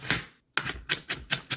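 Knife chopping onion into small pieces on a board, a run of sharp, evenly spaced cutting taps, close and fairly loud, after one brief pause.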